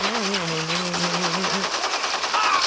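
Rapid automatic gunfire in the video game Gangstar Vegas, a loud continuous rattle of shots throughout, with a brief tonal voice-like sound early on.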